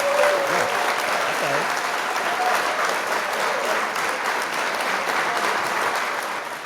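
A group bursts into applause during a podcast discussion, a continuous, dense clapping that holds steady for several seconds before tapering off slightly, with a voice briefly audible underneath.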